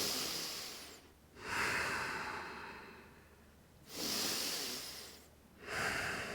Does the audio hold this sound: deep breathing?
yes